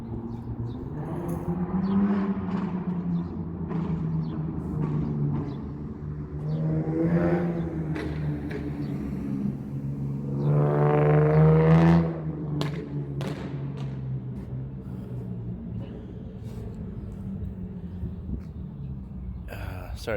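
A Lexus with no exhaust system drives nearby, its raw engine droning loudly throughout and swelling into two louder revving surges, with voices mixed in over the noise.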